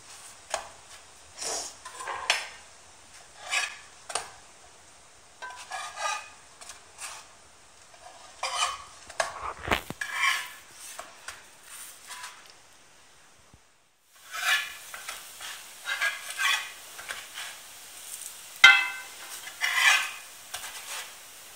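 Pieces of food sizzle in a frying pan while being turned with a utensil, bursts of crackling sizzle mixed with scraping stirs and light clinks, close by, with a short quiet gap midway.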